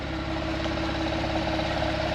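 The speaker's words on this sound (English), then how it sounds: "And I'll just rev it again." A Porsche 911 Targa 4S (997.2) engine runs steadily with a deep, even rumble, close and fairly loud, without a clear rise in revs.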